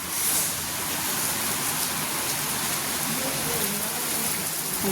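Rain falls steadily around a vehicle with a windshield, a dense continuous patter of drops on surfaces, fairly close and even in level, with no voices heard.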